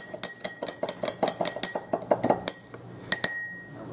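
A spoon clinks rapidly against a glass while stirring yeast and sugar together, a close, bright run of about twenty ringing taps, then a brief pause and a couple more strikes.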